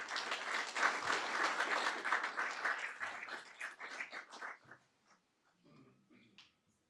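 At a school district board meeting, an audience applauds students and educators with dense, steady clapping that thins out into scattered claps and fades to silence.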